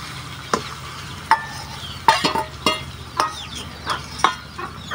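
Beef tripe and potatoes fry in a pan over a wood fire, a steady sizzle beneath sharp, irregular scrapes and knocks of stirring that land roughly every half second to a second, with no one speaking.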